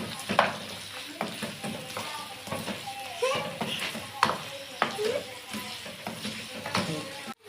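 Chicken frying in a pan with garlic ginger paste, a steady sizzle broken by repeated stirring scrapes, under a voice and children's chatter in the background.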